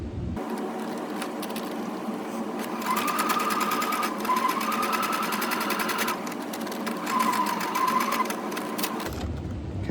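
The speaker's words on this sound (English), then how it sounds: "I have my sewing machine set so that the needle stops up" A sewing machine stitches a fabric kite arch with a steady, close, continuous mechanical whir and hum for several seconds, then stops abruptly at the end.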